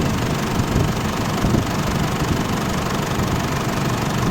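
An Isuzu D-Max pickup engine runs at a steady idle after its starter motor was repaired. It gives off a continuous low rumble and clatter up close, with no talking.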